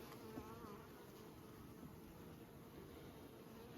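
Honeybees at an open hive in Nymboida give a soft, continuous buzz close by, quiet and steady throughout with a slight rustle at the end.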